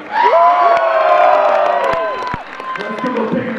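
A concert crowd at a metal show cheers, whoops and claps after an opening band's set, loud and close, with sustained shouting voices over a bed of applause that dips slightly near the end.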